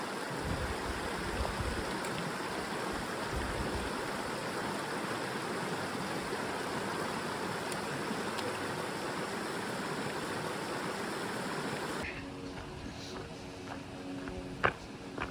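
A mountain creek rushes at a backpacking-trail crossing in wilderness, a steady close wash of flowing water that cuts off near the end, leaving quieter ambience with a few knocks.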